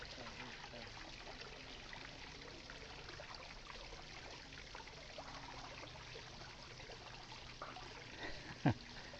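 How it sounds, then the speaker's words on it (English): Waterfall at a getaway spot in Moonwalk, Parañaque, Philippines, heard as a steady, faint broadband rush of falling water with one brief knock near the end. "Let me do a little slow motion of this waterfall here."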